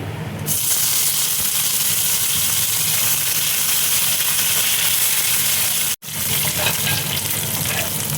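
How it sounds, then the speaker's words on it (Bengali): Curry leaves dropped into hot oil already spluttering with mustard seeds, tempering for coconut chutney, give a loud, dense, continuous sizzle and crackle close up, with a brief cut partway through. "এবার দেখো কারি পাতা আমি দিয়ে দিচ্ছি।"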